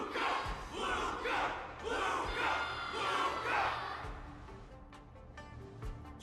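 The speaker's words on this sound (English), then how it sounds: "Everyone's cheering for you, Luca." A crowd cheers rhythmically in the video game Honkai Star Rail, several rising chant-like shouts in quick succession before fading into a quieter murmur, moderately close.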